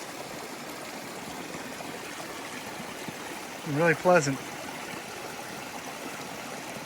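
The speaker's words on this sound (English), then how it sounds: "For the last mile or so, I've been climbing along the side of this brook." A brook runs beside the Appalachian Trail, its steady rushing water close and constant throughout, with a short spoken remark partway through.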